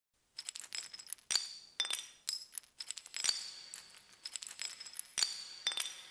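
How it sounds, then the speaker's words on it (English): Bright glassy synthesized clinks ring out in a loose, irregular pattern, each one trailing off in a spacious reverberant tail, with no other sounds present. "Some reverb on the clinks."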